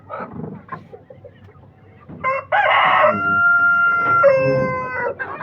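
A rooster crows loudly and close by, a long harmonic call following scattered clucking from Brahma chickens nearby.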